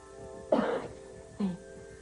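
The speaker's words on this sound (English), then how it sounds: "Just get these coughing spells" Two short, rough coughs about a second apart, close by, over a quiet background with a faint steady hum.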